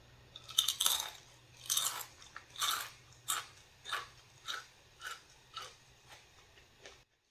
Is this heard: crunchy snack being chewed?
yes